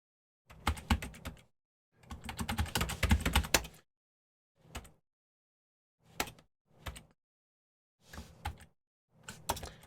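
Bursts of typing on a computer keyboard while entering database code, close and clear, with rapid clustered keystrokes in several separate runs and pauses of silence between them.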